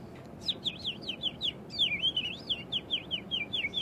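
A rapid run of high, warbling bird-like chirps in quick succession, a woman whistling an imitation of birdsong over faint background hiss.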